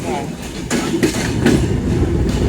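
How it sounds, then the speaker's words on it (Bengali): A passenger train on the Dinajpur–Dhaka route pulls away from Phulbari station, heard from inside the carriage. It rumbles loudly and steadily, with rhythmic clacking bursts repeating roughly every half second. "ফুলবাড়ি স্টেশন থেকে ট্রেন ছুটে চলতেছে"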